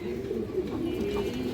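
A black Muslodom pigeon coos in a soft, low, rolling murmur, close and quiet, over a brief stretch with no talk.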